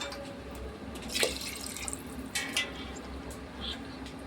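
Water poured into a pressure cooker for soybean pulao, with splashing bursts and gurgles over a quiet wet background, a few distinct pours and drips at close range.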